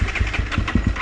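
A motorcycle engine idling low while warming up, a steady, close, rough putter with regular uneven pulses and no voices over it.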